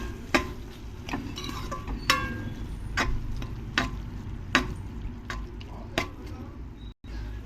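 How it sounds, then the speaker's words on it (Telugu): Green chili paste stirred into a simmering tomato curry in a pan: a steady sizzle beneath soft, periodic scraping taps of a spoon against the pan, close and moderate in loudness. "ఇప్పుడు ఇందులోకి గ్రైండ్ చేసుకున్న పచ్చిమిర్చి పేస్ట్ వేసుకొని బాగా కలుపుకోవాలి"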